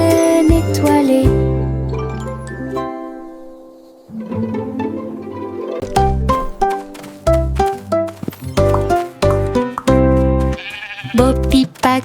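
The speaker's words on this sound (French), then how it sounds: "Bo Peep a conduit les moutons vers les terres rouges" Sheep bleat within a lively children's song, with wavering animal cries set among bright musical tones and jingling bells, loud and close, with pauses and short breaks in the music.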